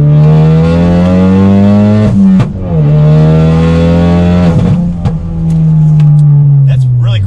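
A tuned Ford Focus RS pulls hard in second gear, a loud close engine note rising steadily with a brief dip at the shift point before climbing again.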